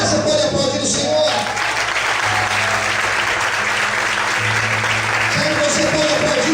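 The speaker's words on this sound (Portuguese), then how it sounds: "Aleluia, você pode aplaudir o Senhor." A church congregation applauds loudly and continuously, a thick wash of clapping that fills the room, with a sustained low musical tone and voices mixed underneath.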